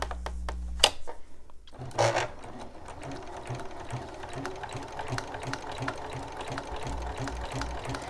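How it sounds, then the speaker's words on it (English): A sewing machine stitches binding strips onto a quilt, running in a steady rapid mechanical whir after a couple of brief clicks and thumps at the start, close and continuous. "we're going to go ahead and sew right on that line"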